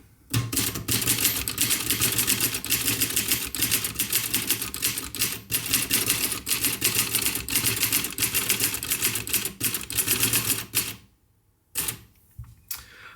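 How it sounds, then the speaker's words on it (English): Someone types briskly on a Facit TP1 typewriter, whose soft-action keys give rapid, close clacks in an even run for about eleven seconds before stopping, then a few scattered mechanical clicks follow. "So I'm just going to type a little bit more and give more of an opinion."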